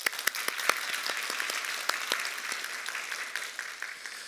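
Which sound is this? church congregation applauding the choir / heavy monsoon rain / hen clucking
church congregation applauding the choir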